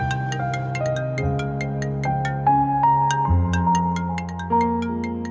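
A mobile phone rings with a loud, close electronic melodic ringtone of bright repeating notes that plays on steadily with no voices.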